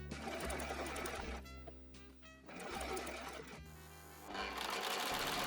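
A sewing machine stitches a sleeve onto a Liberty print cotton blouse, running in loud steady bursts separated by brief pauses, with no voices.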